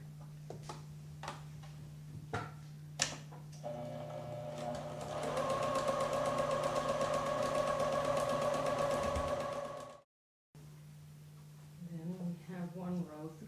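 A sewing machine stitches quilt pieces together in a steady, rapid whirring run lasting several seconds, preceded by a few soft ticks and followed by faint talk.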